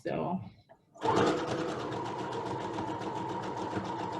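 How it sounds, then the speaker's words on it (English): Sewing machine stitching around the perimeter of cloth mask fabric, a steady rapid mechanical whir starting after a brief pause and continuing close and even, with a voice talking briefly before it starts. "So what I'm going to do now is sew all the way around the perimeter of the fabric and leave one end open."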